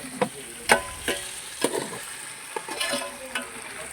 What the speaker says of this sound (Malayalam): അപ്പോൾ ചിക്കനൊക്കെ വറുക്കുന്നുണ്ട്.